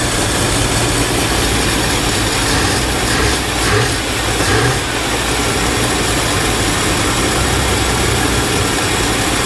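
A 1986 Chevrolet K30 dually truck engine runs at a loud, steady idle close by, a dense mechanical drone with a ticking ratchet-like clatter and brief swells partway through, no voices.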